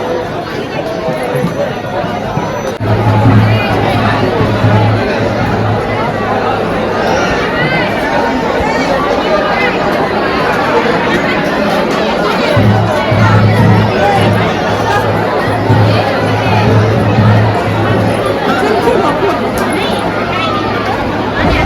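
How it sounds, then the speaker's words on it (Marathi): A large, noisy crowd fills the Jejuri temple grounds, dense overlapping chatter and murmuring voices close by, steady and loud for the whole stretch with a faint low hum underneath. "गर्दी बघा, गर्दी आज किती आहे"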